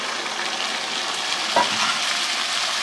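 Boiled peas and potatoes tipped into a pan of frying macaroni, a steady loud sizzle with a brief soft thump of the vegetables landing partway through, close and with no talk.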